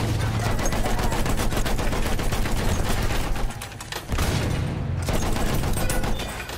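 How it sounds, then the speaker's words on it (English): Battlefield 1 battle gunfire: dense, continuous machine gun bursts and shots, loud and close, with a brief dip mid-way before the rattling fire resumes and tapers slightly. "Enemy machine gun!"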